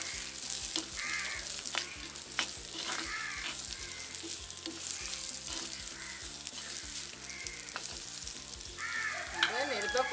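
Onions sautéing in a pan over a fire give a steady sizzle broken by occasional stirring scrapes, while crows caw now and then in the background.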